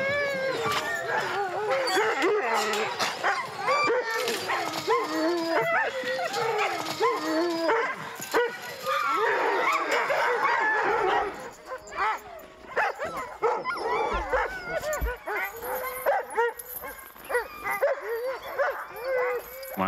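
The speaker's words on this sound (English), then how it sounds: "All right, so dogs are howling." A pack of Alaskan Malamute sled dogs howls, yips and whines in an excited overlapping chorus, with a person talking among the noise partway through.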